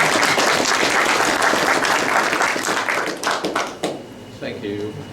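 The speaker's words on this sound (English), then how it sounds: "Give him a big round of applause and welcome him to the club." Applause from an audience of gentlemen at a club fills the room as a speaker is welcomed, dense and loud for several seconds before thinning into scattered claps, with a voice speaking briefly at the end.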